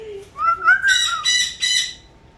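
Sunni, a pet bird, lets out a run of loud, close squawks, a quick rising call followed by several harsh bursts in a row, with no talking over them.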